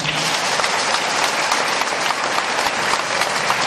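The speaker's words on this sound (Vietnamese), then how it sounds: "Chúng ta vỗ tay để mừng." Church congregation applauding in celebration during a Vietnamese Catholic Mass, a loud, dense and steady roar of many hands clapping together without pause.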